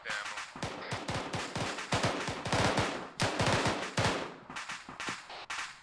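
Rapid bursts of rifle and machine-gun fire from a weapons squad in the military shooter Arma 3, dense overlapping shots rattling continuously at close to mid range with no pauses longer than a moment.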